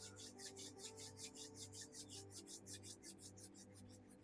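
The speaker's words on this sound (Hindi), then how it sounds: "अपने पाम्स को रब करेंगे" Palms rubbed briskly together make a faint, steady swishing friction with a quick, even back-and-forth rhythm, heard alone.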